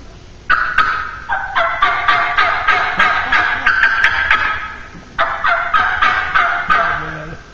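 A hunter's turkey call imitates a young hen seeking a mate during spring turkey season, a human-made imitation, not a real bird. It gives a series of loud, close, rhythmic yelping notes in two bursts with a short pause between.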